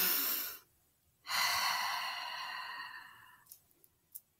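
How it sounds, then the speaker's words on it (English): A deep yoga breath: a soft exhale fades out, then a long, close inhale swells and slowly tapers over a few seconds, followed by small faint clicks. "Take a nice deep breath in."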